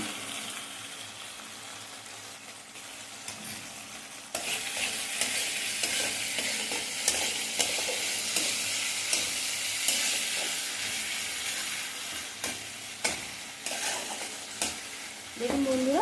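A spice mix of turmeric and hing fries in oil, starting as a softer sizzle that jumps to a loud, dense crackle partway through, with occasional stirring clinks close up and no voices.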